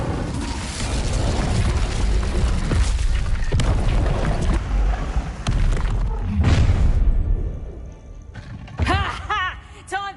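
Casting the Incendio fire spell in Hogwarts Legacy gives a loud, sustained roaring rush with deep booming swells that fades after several seconds. Chirping, warbling sounds follow near the end, and talk runs underneath.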